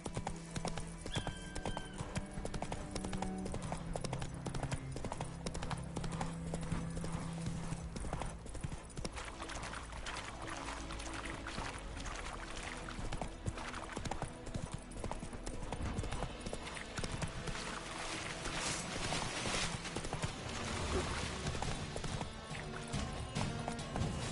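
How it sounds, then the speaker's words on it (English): Hoofbeats of a horse galloping in The Witcher 3 on PlayStation 5, a steady rapid clip-clop that runs throughout, joined by an occasional whinny against a dense game soundscape of music and ambience. "Come on, Roach"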